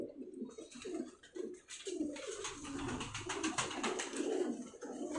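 Pakistani pigeons coo in a steady, overlapping murmur close by, with soft throaty calls repeating through the whole stretch alongside faint chirps and general flock noise.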